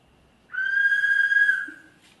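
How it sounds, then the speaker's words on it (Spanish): A police whistle blows once, a single sustained shrill tone lasting about a second and a half, clear and fairly close against a quiet background. "¡Ese es el silbato!"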